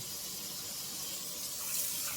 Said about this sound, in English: I'm gonna rinse my sorrel